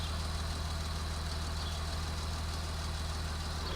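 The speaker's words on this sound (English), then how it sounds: "starts up the machine and revs the tractor hard." A tractor engine runs steadily at a low, throbbing idle, close and continuous without any breaks.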